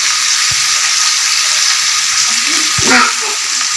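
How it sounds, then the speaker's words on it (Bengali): Cauliflower and potato curry fries in a pan at an outdoor village picnic, giving a loud, steady, close sizzle with a couple of faint knocks against the pot. "রান্না হচ্ছে ফুলকপি আলু তরকারি"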